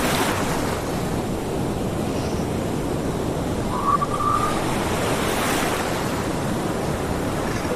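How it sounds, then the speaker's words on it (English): Ocean surf rolls steadily at the shore, a continuous broad wash of breaking waves with wind buffeting the microphone throughout and no voices. "look at the ocean"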